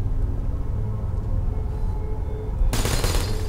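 Portal turrets firing in the video game, a sudden rapid burst of gunfire near the end that follows a steady low rumble.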